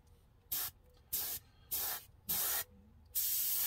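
Testors bottle enamel is fogged from a spray gun onto a scale model auto body in five short, even hissing bursts, close and alone, with quiet gaps between them.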